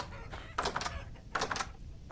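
Chickens in the video game Vintage Story give two short, bright clucking bursts about a second apart over a faint, steady background.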